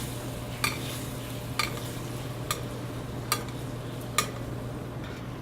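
Pork belly glazing and basting in a pan with cider reduction, giving a low steady sizzle with a handful of brief spoon scrapes or clicks spaced about a second apart, no talking.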